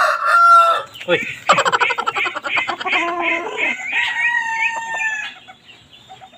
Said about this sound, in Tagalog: Ito yung mga rooster.